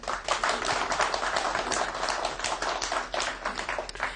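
A small studio audience at an Indian television news show claps in a loose, uneven burst, individual hand claps audible, fairly close and moderately quiet.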